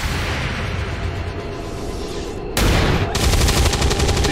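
Video game gunfire in XCOM 2, a loud sustained rattle of shots that swells abruptly partway through into a heavier burst with a sharp break, then resumes at full intensity.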